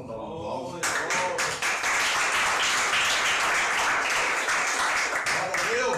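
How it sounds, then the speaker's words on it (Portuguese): A church congregation bursts into applause during a pastoral meeting, with loud, close, dense clapping that starts abruptly after a brief spoken phrase and carries on steadily to the end. "Vamos dar um aplauso."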